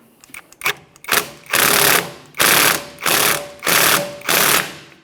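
A tool rattles in repeated loud mechanical bursts while pulling the rear wheel bearing off a 2014-2019 Toyota Corolla hub, five or six evenly spaced ratcheting runs up close.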